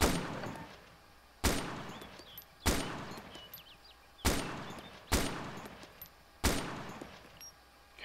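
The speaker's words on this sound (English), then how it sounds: "I just shot that guy in the balls like 5 times" Arma 2 Epoch rifle gunshots in a Chernarus field, six loud sharp cracks spaced irregularly about a second apart, each followed by a long rolling echo that decays into quiet ambience.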